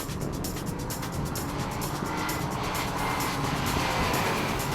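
A Nissan 370Z with a 7-speed paddle-shift automatic drives along, its steady engine and road roar heard from inside the car, broadband and constant with a slight swell toward the end.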